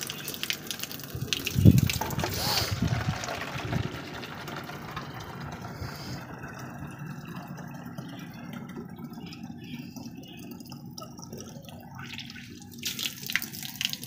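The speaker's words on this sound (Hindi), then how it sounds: "पानी पानी बोतलें भर गई हैं" Water gushes from a tap into bottles being filled, loud and close at first, then settling into a softer, steady running flow that rises again near the end.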